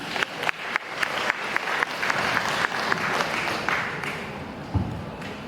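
Applause welcoming Hyundai Engineering & Construction at a redevelopment owners' briefing in Yangjae, a steady crowd clapping with a few sharper, nearer claps standing out before it fades.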